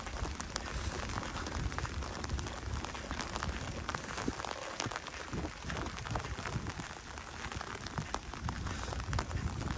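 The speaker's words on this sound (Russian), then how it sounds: "Блин, дождь такой спустился, капец." Rain falling steadily outdoors in the Polish countryside, a constant close patter of drops on surfaces with faint scattered taps, soft and even throughout.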